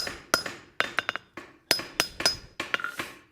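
Hammer strikes ring out on metal while back-splitting a rasp being forged, the blows coming in quick clustered bursts with bright, clinking rebounds and short pauses between groups.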